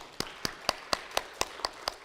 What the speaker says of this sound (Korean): 자, 우리 크게 박수 한번 드리겠습니다.